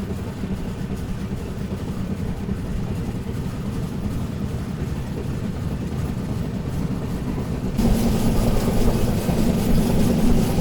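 A steady low rumble of the Agnibina Express train running between Asansol and Kolkata, continuous and droning, growing louder and brighter partway through with no talk.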